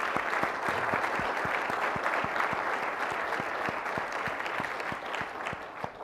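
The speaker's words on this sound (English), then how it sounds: "I just want to have a quick round of applause for John Fish" A crowd at a Boston 2024 Olympic bid announcement event claps steadily for several seconds, the applause dense and sustained with individual hand claps standing out near the front.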